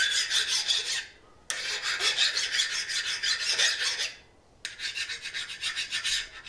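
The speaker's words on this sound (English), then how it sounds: "You can hear it here with the file test." A steel file rasped across a hardened knife blade after quenching in Parks 50 oil, three bursts of harsh, bright scraping separated by short pauses, loud and close with no talking.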